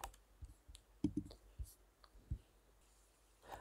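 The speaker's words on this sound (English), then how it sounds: "After that, click on Install." A computer mouse gives a few quiet, separate clicks at close range, with soft, muffled bumps between them in a hushed room.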